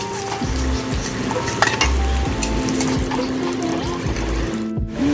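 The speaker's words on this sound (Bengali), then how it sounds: "এবার মাছের মাথাটা তেলে দিয়ে দেবো" Fish head frying in hot oil in a wok, a dense continuous sizzle with scattered clinks and scrapes of a utensil stirring against the pan, steady and close throughout.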